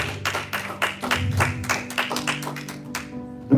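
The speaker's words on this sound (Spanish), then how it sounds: "Dar un aplauso al Señor." A church congregation claps in applause, a rhythmic run of distinct hand claps with a low sustained tone underneath, fading out near the end.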